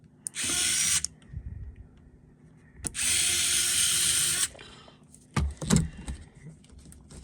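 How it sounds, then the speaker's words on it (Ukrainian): A small power screwdriver whirs in two bursts while removing tiny screws from an XFX RX-580 graphics card. Metallic clicks and fumbling handling noises sit between and after the bursts. "Дуже маленький гвинтик не бере. Викрутка наша."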